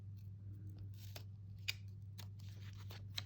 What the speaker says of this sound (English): I'm gonna grab this knife and cut this one again.